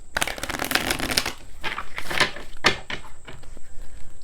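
Romance angels oracle cards being shuffled close up, a rapid riffling flutter of card edges in quick repeated bursts with brief pauses, no voices.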